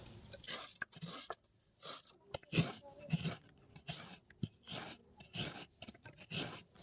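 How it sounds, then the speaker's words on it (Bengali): Coconut flesh scraped by hand on a grater in a home kitchen, a run of short, close rasping strokes in an uneven rhythm with brief pauses between them, fairly quiet and heard alone. "এই যে নারকল নারকলটা কুড়িয়ে নেবো"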